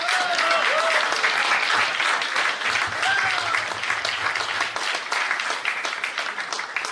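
A crowd applauds steadily and loudly, a dense wash of many hands clapping throughout, with a brief voice or tone rising faintly beneath.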